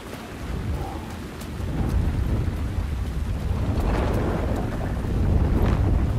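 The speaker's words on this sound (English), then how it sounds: "It sounds like a storm is going on in there." Stormy weather in the Alan Wake 2 video game: steady rain and rumbling thunder roll on without pause, swelling louder toward the end, with no voices over it.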